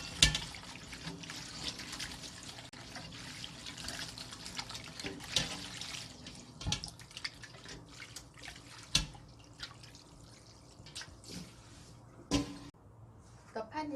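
Cold tap water splashing and trickling over noodles for vegetarian japchae in a kitchen sink, close and uneven, with drips and clattering bursts and a quiet voice talking now and then.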